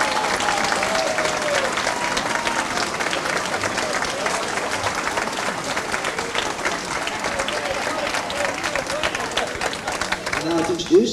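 Wedding reception guests break into a big, dense round of applause that fills the room steadily, loud and close, with crowd noise and a voice mixed in under the clapping.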